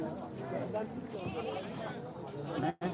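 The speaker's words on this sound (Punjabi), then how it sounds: "ਲਓ ਬੱਕਰੀਆਂ ਤੁਹਾਨੂੰ ਦਿਖਾਈ ਜਾਂਦੇ ਆ ਦੇਖ ਲਓ" Goats at a livestock market with Barbari cross breeds among them, bleating amid a steady crowd din and nearby chatter, with people talking throughout.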